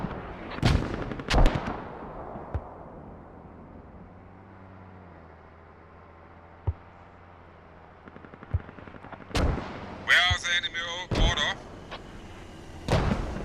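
Scattered loud booms and sharp reports of mortar and gunfire in a tactical military video game, spread irregularly over a low rumbling background, with a radio-like voice and crackly chatter near the end.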